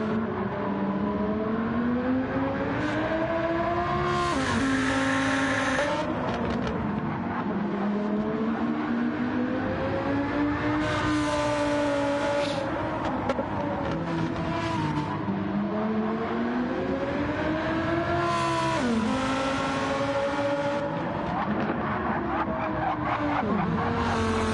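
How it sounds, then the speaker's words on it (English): A Lamborghini Huracan GT3 on soft tyres in a racing video game at Fuji brakes hard into a right-hand corner, its engine note rising and falling through shifts with bursts of tyre squeal, loud and continuous. "he is on the soft tyres in his Lamborghini Huracan GT3, hard on the brakes and into the right-hander of Dunlop."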